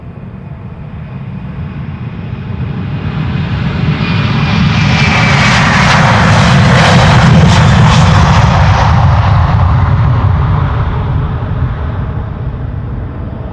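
A Delta Airlines Airbus A330-300 airliner passes close by at an airport, its loud jet roar rising, peaking in the middle and slowly fading, with no voices.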